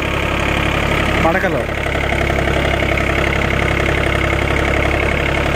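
Tractor engine running steadily in second gear at low revs, a continuous near rumble with a brief human voice over it.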